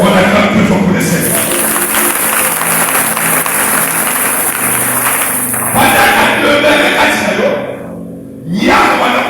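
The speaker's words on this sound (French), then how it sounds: "On acclame plus fort pour le Seigneur." A church congregation at a Sunday worship service applauding and cheering loudly and continuously, a dense wash of clapping and voices that dips briefly near the end before rising again.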